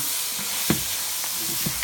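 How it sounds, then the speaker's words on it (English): Steady sizzling of vegetables frying in a pan over a flame, with a few soft scrapes and clicks as they are stirred, close and continuous. "we're gonna stir these in, and you can see the sizzle"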